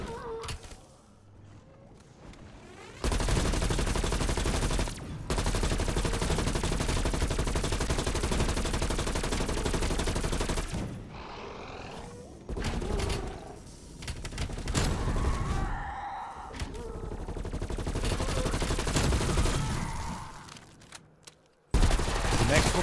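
Loud sustained gunfire from a zombies boss fight in a video game, with dense rapid shots and explosions running for most of the stretch, broken by a few brief lulls and dips.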